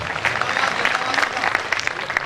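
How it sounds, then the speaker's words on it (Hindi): Audience applause at a Hindi poetry recital (kavi sammelan) in Waidhan, Singrauli district, Madhya Pradesh: steady, dense clapping from a crowd throughout, moderately loud, with some voices mixed in. "एक बार ताली बजा दो ताकि मुझे लगे कि कविता आपको पसंद आए"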